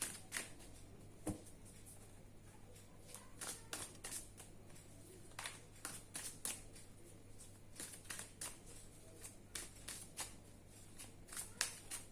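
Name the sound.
shuffling tarot cards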